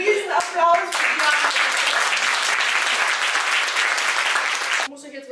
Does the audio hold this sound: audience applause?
yes